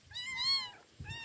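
A small kitten gives two clear, high meows close by, a longer one followed by a short second cry, outdoors near a river.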